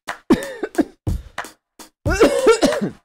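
Several harsh coughs in quick succession, close and loud, followed by a longer rough burst of coughing.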